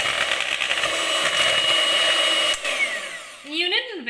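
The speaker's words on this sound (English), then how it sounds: "I give a nice whisk." A motorized whisk beats condensed milk cake batter for an eggless chai cake, a loud, steady whining drone that wavers, dips briefly, then shifts pitch as it slows near the end.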